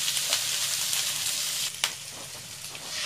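Onions and chili fry in a pan with a steady, bright hiss, interrupted by a brief stirring scrape and a sharp pop near the middle, with no voices.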